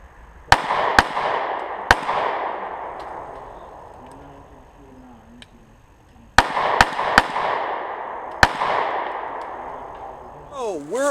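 Sig Sauer P938 pistol fired at a target 3 yards away: sharp, loud single shots, two close together, then a lone shot, later a quick cluster of three and another, each ringing out outdoors, with brief talk between.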